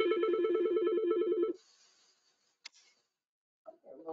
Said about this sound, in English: Just dial 6763. You can wait for it, or you can press the send key on the phone.